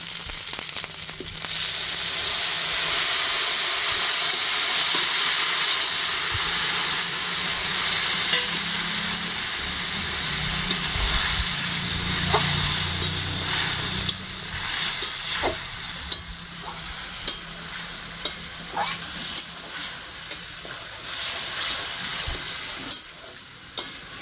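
Sliced ridge gourd tossed into hot oil and stir-fried for a vegetarian Bengali curry, a steady loud sizzle with scraping stirs and occasional clinks of the spatula against the pan, no talking.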